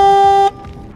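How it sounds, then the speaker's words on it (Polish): A car horn fitted to a bicycle gives one loud, steady honk for about half a second, then cuts off to quiet background. "Tu mam klakson, tu mam włącznik"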